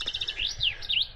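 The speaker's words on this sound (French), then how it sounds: "les oiseaux piaffent. Donc excusez-moi pour le bruit des oiseaux" Small birds chirp and tweet outdoors in quick, high, sweeping calls along the GR65 pilgrimage trail, fairly close and clear over faint background noise.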